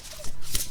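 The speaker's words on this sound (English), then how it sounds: "I'm gonna reshuffle because I just looked at a card" A deck of Shamanic Oracle cards is reshuffled in a quick, close riffle of papery flutter lasting under a second, with no talking.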